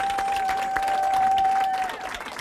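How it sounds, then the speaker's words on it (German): A live audience at a fan talk event applauds for handball player Finn Lemke, a steady dense wash of clapping from a crowd, continuous and loud, with a sustained tone running underneath. "Erstmal dein Applaus."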